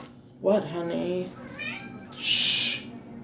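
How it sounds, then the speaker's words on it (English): A house cat meows nearby in a kitchen, a couple of short calls close to the mic, followed by a brief sharp hiss-like burst; a person speaks briefly alongside. "That was my cat."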